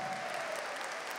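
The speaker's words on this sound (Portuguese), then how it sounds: "Vamos aplaudir o nosso irmão que está do nosso lado." Church congregation applauding during a Catholic celebration, a brief burst of dense, even clapping from a large crowd heard at moderate distance.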